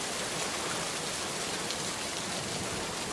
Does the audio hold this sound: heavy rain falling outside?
yes